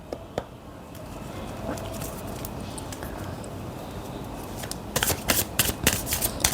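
Intuitive oracle cards are shuffled by hand, a soft continuous riffling that ends in a burst of sharp card snaps and slaps, close and clear with no talking.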